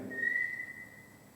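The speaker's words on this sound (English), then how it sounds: "that was like a whistle then, do you hear that?" A faint, thin whistling tone drifts steadily for about a second over a quiet room hiss, distant and soft.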